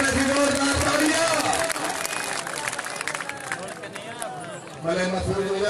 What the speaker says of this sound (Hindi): लग रही जोरदार तालियां